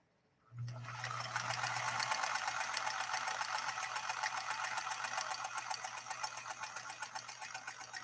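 A very rare Singer 222K sewing machine stitches a steady line after a sharp start, its motor humming under a fast, even clatter of needle strokes that continues without a break.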